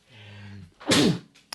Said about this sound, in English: You just had to sneeze it out